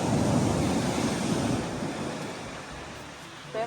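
Big ocean waves roll and wash onto a beach, a loud continuous roar of surf with wind buffeting the microphone and no talking.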